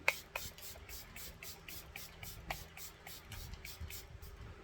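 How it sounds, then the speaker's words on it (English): A Charlotte Tilbury Airbrush Flawless Setting Spray is misted onto a face in a quick run of short, soft hissing spritzes, close and fairly quiet, with faint handling noise between bursts. "This is the Air Blush Flawless Setting Spray."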